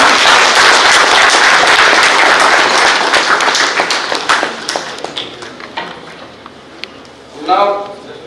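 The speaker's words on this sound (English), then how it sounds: "So please have a clap." Audience applause at an operating committee meeting, a broad wash of clapping that fades out over several seconds, followed by a brief burst of voices near the end.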